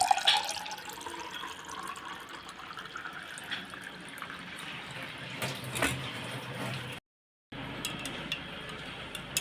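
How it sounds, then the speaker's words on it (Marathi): Cold water pours and trickles into a raw mango drink mixture at close range, a soft continuous flow with a few drips. "एकदम गार पाणी टाकायचं आहे यामध्ये"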